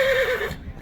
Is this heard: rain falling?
no